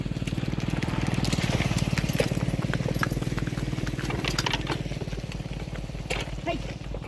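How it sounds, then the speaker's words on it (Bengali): Horse-drawn cart on a village road among mustard fields, hooves clip-clopping in a steady, quick rhythm close by, with a low rumbling hum beneath. "আর হচ্ছে ঘোড়ার গাড়ি"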